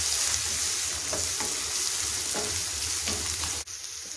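Coriander leaves, curry leaves and tomato sautéing in a hot pan for chicken peralan, a steady dense sizzle and crackle with a few scraping stirs, close and continuous before a brief dip near the end.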